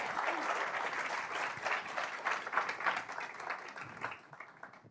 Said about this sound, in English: Let's give him an applause, ladies and gentlemen.